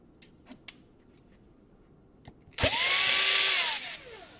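A power screwdriver works on the hinge screw of a Dell Inspiron 15 3000 laptop: a few faint clicks, then a loud, steady whirring burst that winds up and drops off after about a second and a half.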